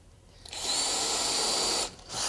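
A power drill pre-drills holes into a concrete countertop, whining loudly and steadily for over a second, briefly dropping off, then spinning up again, close and with no talking.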